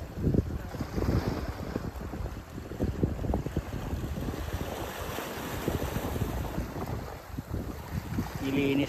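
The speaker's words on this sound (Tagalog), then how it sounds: "Medyo malakas lang yung hangin." Strong wind buffets the microphone at sea aboard a small fishing boat off Saipan, a steady loud roar with gusting rumble and splashing water throughout, with no voices.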